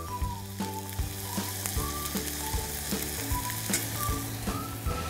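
Julienned carrots with two spoonfuls of honey sizzle steadily in a hot pan, a continuous frying hiss punctuated by regular, close utensil taps and clinks roughly every half second.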